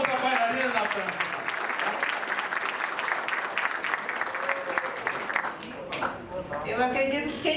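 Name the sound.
audience applause for the dancer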